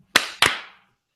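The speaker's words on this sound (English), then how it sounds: "we're gonna do a clap" Two sharp hand claps ring out close and loud, each with a brief decaying tail, marking a sync point for a podcast recording.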